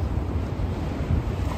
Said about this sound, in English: Get the sound of the water.